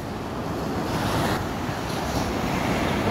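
High sea waves surging and breaking on the coast at Noja, Cantabria, a loud, continuous roaring wash mixed with wind buffeting the microphone.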